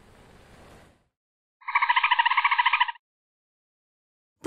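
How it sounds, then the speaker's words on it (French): A dolphin's rapid clicking call, a buzzy pulsed burst of about a second and a half standing alone after a brief hiss of background noise. "C'est le cri du dauphin."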